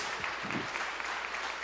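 A church congregation applauds in a soft, continuous patter of many hands, heard from a distance without anyone speaking.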